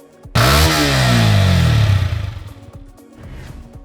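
A Yamaha YZF-R125 motorcycle engine bursts into a loud, high rev that holds for over a second and then falls away, followed by a rattling idle, close and alone.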